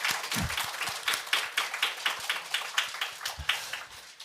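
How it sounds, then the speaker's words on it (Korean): A church congregation claps during Sunday worship, a dense, steady burst of applause that fills the room for several seconds at a lively, even rhythm. "할렐루야 영광의 박수 함께 하나님께 올려드립시다"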